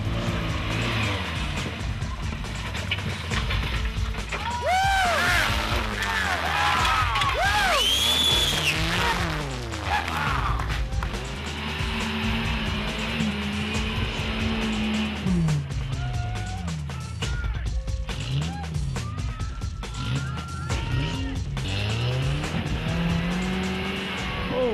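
1991 Geo Tracker crawling over rocks in three-wheel drive with a broken rear axle, the engine revving and bogging in repeated loud surges with tire scrabbling, close up throughout.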